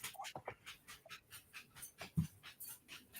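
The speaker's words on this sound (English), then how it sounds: "I hear the puppy" A puppy pants rapidly and rhythmically close by as it runs around, with a few faint whimpers and soft thuds among the quick breaths.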